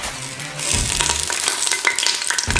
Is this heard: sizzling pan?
yes